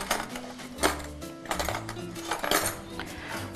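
A metal spoon clinks and taps against a pot or bowl while measuring ingredients into Albanian sutliash rice pudding in a home kitchen, several light, irregular clinks over steady low kitchen hum.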